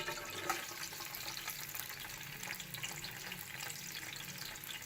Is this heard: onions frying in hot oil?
yes